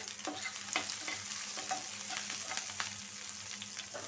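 Botboti, a vegetable, frying with onions in a pan, a faint steady sizzle broken by light, scattered taps and scrapes of a stirring spoon.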